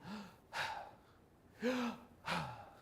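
Three audible breaths in a quiet room, each a short voiced gasp or sigh of inhaling and exhaling, spaced about a second apart, moderately close and soft, with no talking.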